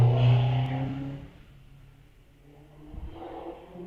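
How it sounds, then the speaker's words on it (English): A BMW 330D diesel estate climbing a hillclimb course, a low engine drone that starts fairly loud and fades, then swells slightly again at a distance. "the BMW of Nick Davies, BMW 330D, so it's diesel estate, out having a bit of fun"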